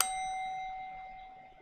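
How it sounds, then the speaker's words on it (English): A single stock market opening bell strike rings out clearly, its bright tone decaying slowly over a second and a half with nothing else heard. "markets are about to open, and taking out that bell"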